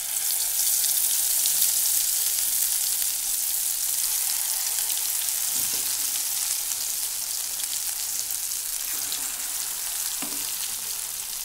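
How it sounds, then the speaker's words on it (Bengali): Vegetable and chicken pakoras with capsicum, chilli, carrot and onion fry in hot oil, a steady broadband sizzle filling the clip at close range, with a few faint low clunks and no voices. "তেলটা মনে হচ্ছে গরম হয়ে গেছে, চলো পকোড়াগুলো দিয়ে দিই।"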